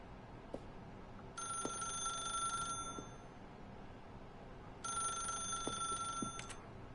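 Telephone ringing in The Stanley Parable video game: two bright electronic ring bursts, each about a second and a half long, separated by a pause, heard fairly close against a quiet background with faint clicks.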